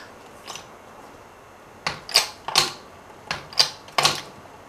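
Hand pumping of a hydraulic press jack used to shape silver flower earrings: about six sharp metallic clacking strokes, mostly in close pairs, loud and near, with a quiet pause before the later strokes.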